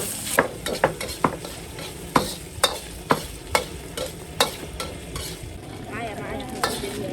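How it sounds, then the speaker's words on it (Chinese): Pork fat stir-fried in a wok to render lard gives a steady sizzle, punctuated by repeated sharp scrapes and clacks of a spatula against the pan. "先把油炒出来啊"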